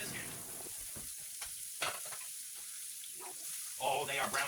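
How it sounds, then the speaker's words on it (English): Burgers made from home-ground meat fry in a flat pan with a steady, soft sizzle and crackle, punctuated by occasional scraping stirs, faint and close. "I was just frying them up in a flat pan."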